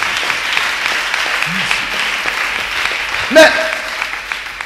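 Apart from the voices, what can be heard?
church congregation applauding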